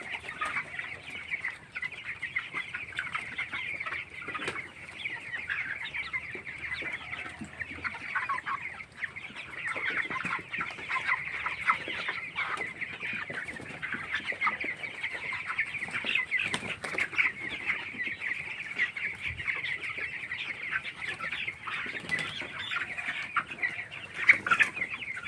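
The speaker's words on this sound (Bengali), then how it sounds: "আজকে 17 দিন বয়স ব্রয়লার মুরগি।" A flock of 17-day-old broiler chickens in their poultry house keeps up a dense, continuous chorus of high peeping and clucking, with occasional wing flaps, close and unbroken throughout.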